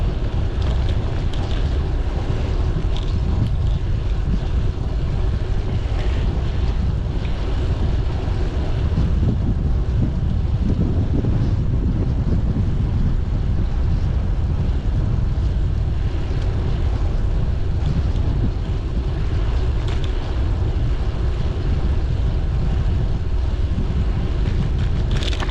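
Headwind roars over the microphone on a road bike ride, a loud, continuous, buffeting rumble that hardly varies over the whole stretch, with no voices.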